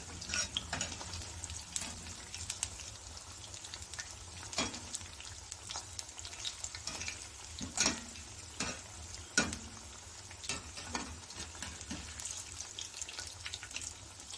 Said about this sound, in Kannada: ಎಲ್ಲ ಕಡೆಯೂ ಗೋಲ್ಡನ್ ಬ್ರೌನ್ ಆಗೋ ಥರ ಫ್ರೈ ಮಾಡಿ